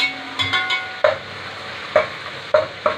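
Moringa pods are sautéed in a hot pan, giving a steady sizzle broken by a few close, sharp scrapes and stirring knocks, with no voices.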